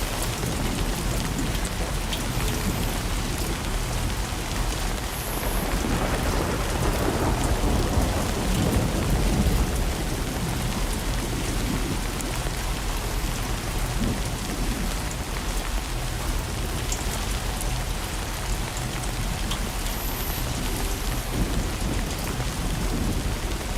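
Steady rain beats against a window with rumbling thunder rolling through a storm in a video game, a continuous dense wash of drops with a heavier swell of thunder midway.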